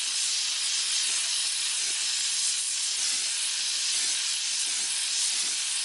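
A gas torch heats metal and a brazing rod with a continuous loud, bright hiss and roar that holds steady throughout, alone and without voices.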